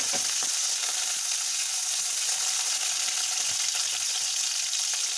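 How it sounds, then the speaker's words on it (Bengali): Cauliflower pieces fry in a pan of hot oil spiced with bay leaf, cinnamon, cardamom and cloves, giving a steady, close sizzle with small crackles and no voices. "এবার আমি প্রথমে ফুলকপি টুকরোগুলো ভালোভাবে ভেজে নিচ্ছি।"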